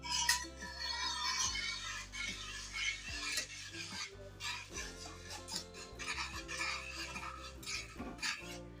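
A spoon stirs and scrapes semolina through melted ghee in a pan, soft repeated clinks and scrapes under steady background music.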